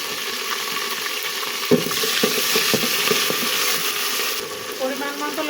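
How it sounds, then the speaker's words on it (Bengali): Onion and chilli fry in a pan with garlic and ginger paste added, a continuous close sizzle broken by a few stirring scrapes and clinks, with no talk. "পেঁয়াজ আর মরিচ ভেজে নেওয়া হয়ে গিয়েছে"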